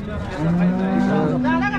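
Cow at the Modnimb cattle market lets out one long, loud, close moo that rises and holds for over a second against a murmur of market noise.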